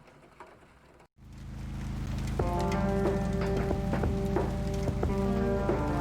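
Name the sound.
rain falling in video game Kathy Rain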